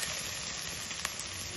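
Ginger garlic paste frying in a pan, a steady, even sizzle and hiss with a faint crackle, close and alone.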